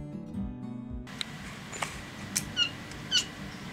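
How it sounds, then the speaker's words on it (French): After a brief stretch of music, a cat sitting at a window chatters in a few short, squeaky chirping bursts, spaced irregularly and fairly quiet. "Les chuchotements ou les caquettements sont les bruits que fait votre chat lorsqu'il est assis à la fenêtre"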